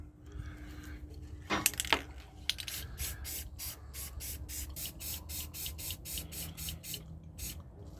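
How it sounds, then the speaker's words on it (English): An aerosol can sprays during repair work on the rear air suspension of a 1998 Dodge Dakota, in a long run of short hissing bursts after a couple of clicks and a rattle of the cap, close and moderately loud. "I just spray it until it's good and runny."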